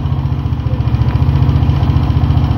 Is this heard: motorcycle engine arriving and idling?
yes